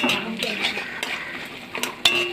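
Peanuts being stirred in a cooking pan, a series of close scraping and clinking strokes of a utensil against metal over a light background sizzle, with a sharper knock near the end.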